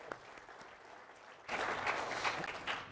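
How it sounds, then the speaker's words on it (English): Applause breaks out halfway through, a dense burst of many hands clapping that swells and holds after a quieter, murmuring start. "And a round of applause for EJ, I should say."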